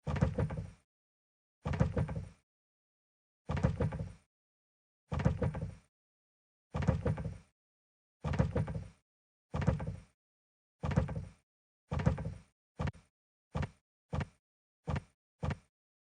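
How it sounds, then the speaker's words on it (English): A door swings open and shut over and over, about fifteen near thumps spaced evenly, then quickening into rapid back-and-forth swings. "I forgot it was a swinging door."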